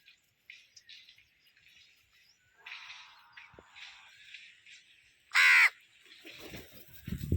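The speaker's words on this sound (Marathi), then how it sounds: "घरी बी लय बेजार करत आहेत कावळे" Several crows caw at intervals, some distant and one loud, harsh call up close, with scattered rustling and a few clatters in between.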